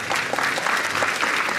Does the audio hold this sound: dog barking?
no